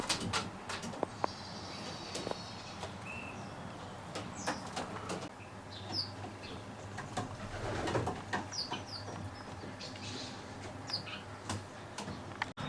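Racing pigeons cooing inside a loft of natural racers, soft repeated coos and scattered chirps from several birds close by, with light shuffling and no talk.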